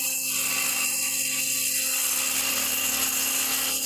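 Power saw cutting anchoring grooves into a concrete floor ahead of a water-based polyurethane mortar coating, a loud continuous high-pitched whine grinding steadily throughout.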